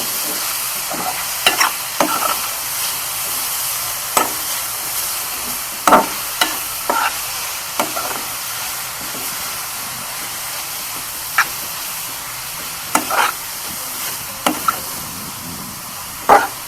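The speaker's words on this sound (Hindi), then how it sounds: "शिमला मिर्च, टमाटर और प्याज डाल देंगे। अच्छे तरीके से इसे मिक्स करेंगे।" Capsicum, tomato and onion stirred in a hot pan with a steady sizzle and frying hiss, broken by intermittent scraping taps of the spoon against the pan at irregular intervals; no voices.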